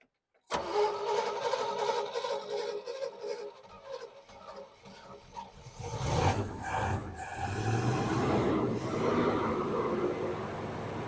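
A car engine fitted with a rebuilt GM 2-barrel carburetor cranks and catches, then settles into a steady, fairly loud running idle with some rasping mechanical noise, heard alone without talk.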